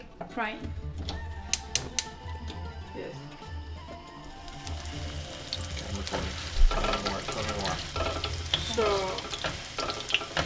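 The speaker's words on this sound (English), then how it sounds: "We are going to do deep frying." Steady crackling and sizzling of Turkish zucchini pancakes deep frying in hot oil, with sharp pops and spatters throughout while a person talks intermittently.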